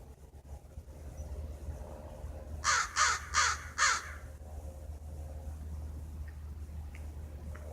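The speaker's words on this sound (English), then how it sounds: "Crows are beautiful birds," A close crow gives a quick run of four loud, harsh caws in the middle of the clip, heard over a steady low hum and faint background noise.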